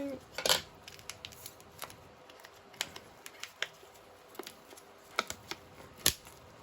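A silicone mould being cut, a scattering of sharp, faint snips and clicks spaced irregularly over soft background noise.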